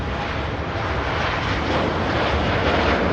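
An airplane departing Manchester Airport roars steadily and loudly, a dense broadband engine rush with no pauses and no talk.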